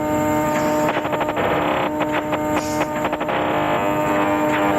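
Dense electronic track built from samples loaded into Maelstrom and other Reason plugins, with stuttering rhythmic chopped bursts over a steady sustained tone, loud and busy throughout with no voices.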